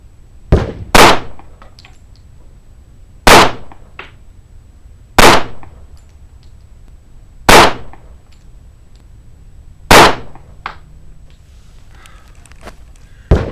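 Handgun shots fired at a range test, seven sharp loud reports spaced a couple of seconds apart, each standing alone against quiet background.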